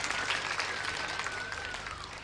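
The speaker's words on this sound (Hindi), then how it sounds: "मैं चाहता हूं पूरा सदन एक बार इनके सम्मान में तालियां बजाए" Audience applauding at a Hindi poetry gathering (kavi sammelan) in Renwal, a fairly faint, steady patter of many hands clapping, with a faint whistle-like tone drifting through.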